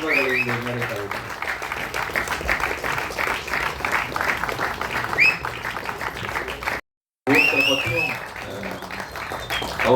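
An audience at a community honouring ceremony on stage claps steadily through ten seconds, a broad crowd roar mixed with voices, cut by a brief dropout near seven seconds before resuming.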